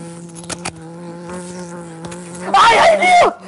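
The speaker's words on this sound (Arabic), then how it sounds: "نكرهك يا الناموس نكرهك" A mosquito whines in a steady, thin buzz through a summer scene in Algeria, swelling into a loud, close burst near the end, with no talk.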